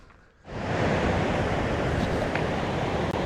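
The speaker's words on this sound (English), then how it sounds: "here's, Hell Roaring Creek." Hell Roaring Creek in the Sawtooth Mountains rushes loudly and steadily, a close, unbroken wash of flowing water that starts abruptly after a brief quiet moment.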